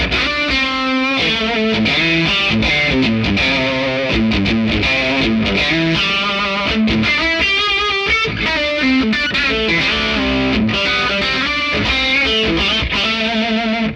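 Electric guitar playing a busy, continuous line with a shimmering, chorused and slightly distorted tone, loud and steady throughout.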